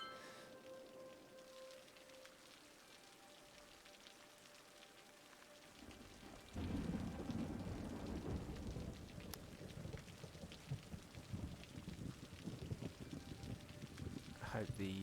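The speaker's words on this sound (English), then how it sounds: "the rain in the background is a calming influence" Steady rain falls in the background, a soft hiss at first that turns to a louder, denser downpour partway through, with a voice speaking over it.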